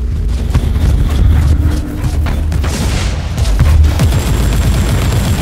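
A grenade blast in Warhammer 40K Inquisitor Martyr, heard as a loud, dense run of booming explosions and gunfire-like cracks that rolls on for several seconds with a heavier burst near the middle, no voices.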